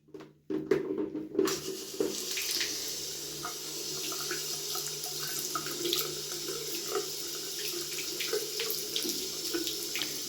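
Cold water runs steadily from a small sink tap in a campsite toilet facility, a close, continuous splashing stream after a couple of knocks at the start.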